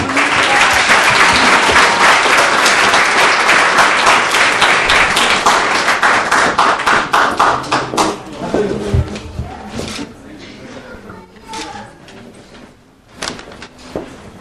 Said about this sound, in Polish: Monika Mazur, ogromne brawa dla Moniki